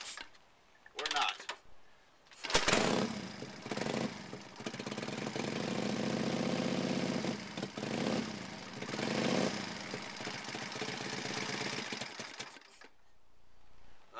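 Indian 101 Scout Classic motorcycle engine cranking in freezing cold, a close rapid mechanical whirring of the starter that runs for several seconds with brief pauses, then fades out without catching.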